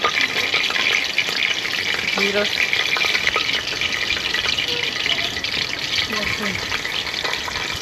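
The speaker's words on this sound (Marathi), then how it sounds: "आता मस्त तेल टाकते मोडी टाकली" Oil and spices with chillies sizzle in a hot pan for masala khichdi, cooked in a caravan. A dense, steady frying hiss runs throughout, with small pops and faint background sounds.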